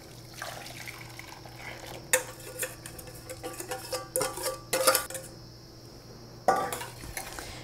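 Custard cream is poured back into a saucepan, with scattered clinks of a utensil against the pan and soft liquid sloshing in short bursts, all under a faint steady hum.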